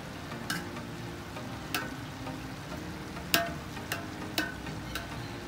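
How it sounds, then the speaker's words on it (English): A spoon scraping and tapping in a pot as cooked rice is levelled for Chettinad chicken biryani, a few sharp metallic clinks over a steady low sizzling hiss, close by. "Just level up the rice using the spoon"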